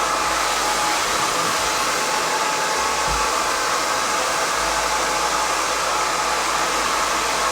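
A hair dryer blowing hair dry with a round brush at home, a loud, steady, continuous airflow whoosh that runs unbroken throughout with no talking.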